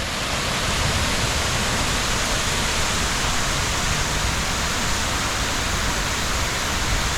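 A large fountain at the Jacksonville Riverwalk, designed in 1963, shoots 17,000 gallons of water per minute 100 feet into the air, producing a loud, steady roar of spraying and splashing water without a break.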